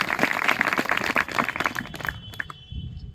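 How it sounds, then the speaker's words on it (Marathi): An audience at a farewell ceremony for tenth-standard students claps for the teachers: dense, lively applause that thins out and stops after a couple of seconds. "यांच्यासाठी तुम्ही सर्वांनी एकदा टाळ्या वाजवायत तुम्हाला विनंती आहे"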